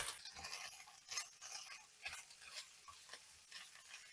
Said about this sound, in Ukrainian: додаю цибулю та моркву. Перемішую